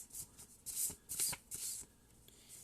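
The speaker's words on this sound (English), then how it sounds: "Let me shuffle one more time." A deck of tarot-style cards shuffled by hand in a few quick riffling bursts, close and fairly quiet, with no talking.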